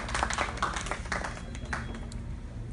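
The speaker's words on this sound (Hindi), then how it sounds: "तालियों में इस्तकबाल कीजिए।" Audience applause welcoming poet Jawad Sheikh at a mushaira in Montreal, scattered rhythmic clapping of a modest crowd over a low hum, fairly quiet and steady.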